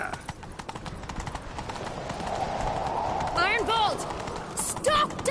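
Hooves clip-clop at a quick gallop under a steady background, while a horse whinnies and a voice speaks briefly, in the video game The Witcher 3.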